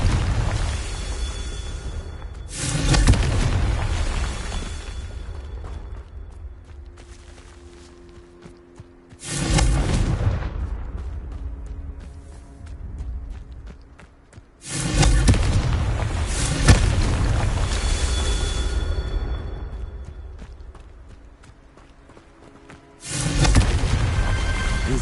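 In Hogwarts Legacy, the Confringo blasting spell explodes during the Merlin trials: four heavy, booming detonations land several seconds apart, each with a loud deep impact that rumbles and fades slowly before the next.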